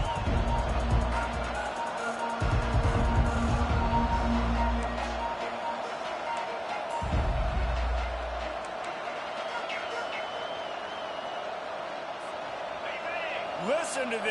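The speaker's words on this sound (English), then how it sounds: "Listen to this crowd just shaking the girders of this place, trying to help their defense." Stadium crowd roaring in the NCAA 25 college football video game, a broad continuous wash of noise with heavy rumbling surges early on, running under a commentator's voice.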